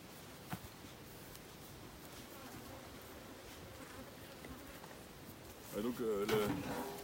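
Honeybees at beehives in a royal jelly apiary, a steady close swarm hum throughout with a louder burst near the end as a voice speaks over it.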